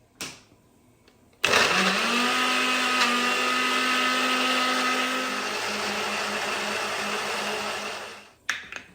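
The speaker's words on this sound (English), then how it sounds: "they are chopped and going in my mixing jar" Chopped ingredients for dal makhani whirring in a mixer grinder jar: a loud, steady motor whine starts abruptly, runs for about seven seconds, then winds down and stops.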